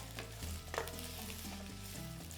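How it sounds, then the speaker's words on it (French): Onions fry in olive oil in a pan, giving a steady sizzle with a brief stirring clatter, close and moderately loud, with no talking. "on commence par faire revenir des oignons dans l'huile d'olive"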